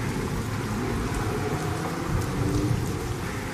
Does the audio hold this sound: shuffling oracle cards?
no